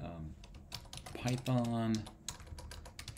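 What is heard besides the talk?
typing on a computer keyboard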